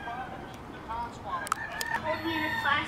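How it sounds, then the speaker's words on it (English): A rooster crows at a moderate distance, its call rising over a faint background hum, with a few clucks from other fowl nearby. "listening to his beautiful roosters"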